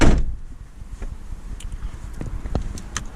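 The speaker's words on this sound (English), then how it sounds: "close the door" A Mini R56 car door swinging shut with a low thump near the start, followed by faint cabin rustling and a few small clicks inside the car.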